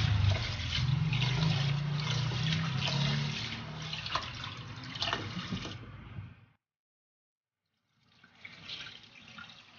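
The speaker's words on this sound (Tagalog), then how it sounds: "So hugasan natin siya. Para ka lang din nagsasaing ng bigas." One kilo of glutinous rice is swished and rinsed by hand in water, steady close splashing and sloshing for several seconds, then a brief pause before more quieter swirling resumes, with no voices.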